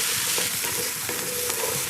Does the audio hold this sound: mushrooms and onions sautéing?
yes